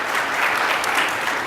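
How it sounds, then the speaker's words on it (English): Dense, steady applause from a keynote audience at an ice cream distributors and vendors association event, filling the whole moment at an even, full loudness with no break. "Let's give Dylan a big round of applause as well."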